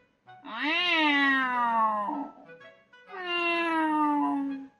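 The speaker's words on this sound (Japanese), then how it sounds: "あ、猫か。" A cat gives two long, drawn-out meows, each rising then falling, close and clear with a short pause between them.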